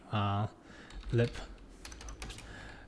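Typing on a computer keyboard: a scatter of light, close key clicks in the second half, preceded by two short tonal, voice-like sounds.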